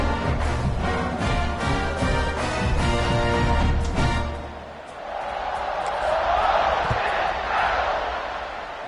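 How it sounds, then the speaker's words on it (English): A loud stadium crowd in the college football video game CFB 26 roars steadily with rhythmic chanting before a kickoff, then dips and swells again into a broad, distant cheer. "They're set to kick it off, and this crowd now ready to get behind them."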